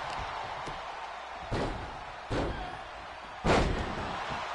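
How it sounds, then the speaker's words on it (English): In a women's wrestling video game, three heavy thuds land on the ring mat at uneven intervals, each a loud body impact over a constant arena crowd murmur. "Slamming Mosquito's head into the mat."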